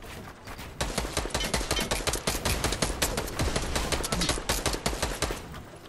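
Rapid, sustained gunfire in a video game bursts out after a brief lull, a dense, loud string of sharp reports in an uneven rhythm with no talking.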